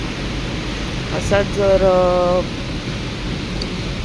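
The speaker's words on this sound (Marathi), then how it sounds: "खूप पाऊस आहे." Heavy monsoon rain falls over foggy Mumbai as a constant, even wash of noise, and a voice speaks briefly partway through.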